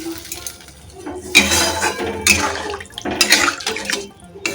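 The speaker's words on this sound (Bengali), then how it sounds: "এবার জল দিয়ে দেবো" Water splashes into a pan of fried spice paste in a few loud pouring bursts with hissing and clinking of the pan, close by and without speech.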